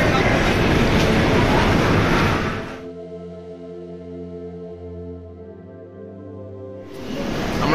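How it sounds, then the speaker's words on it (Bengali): Rajdhani Express via Gaya at platform 9 of Howrah station: loud broadband station roar, then a steady low humming drone with rail noise in the middle stretch, before the loud bustle returns. "এই আমরা রাজধানীর প্ল্যাটফর্মে ঢুকছি, প্ল্যাটফর্ম নাম্বার 9 হাওড়াতে। এই রাজধানী এক্সপ্রেস ভায়া গয়া।"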